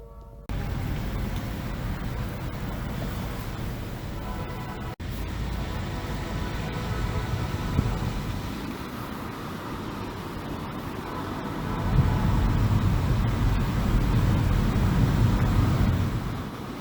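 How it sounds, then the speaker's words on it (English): A car rolls slowly around the back of a residential property, giving a steady low engine and road rumble with wind buffeting the microphone, and a heavier surge of rumble near the end; no one speaks. "we'll just drive around the back side of the property"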